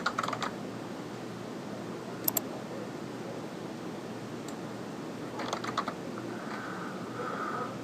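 Computer keyboard typing while an Excel formula is entered: a sparse run of quiet, close key clicks in small bursts over steady background hiss, with no one talking.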